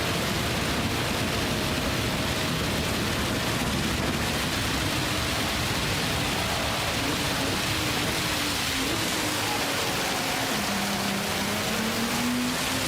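Steady rain at Le Mans in the racing game Gran Turismo 7, a constant hissing wash of downpour layered over the low drone of race car engines shifting in pitch, with no talking.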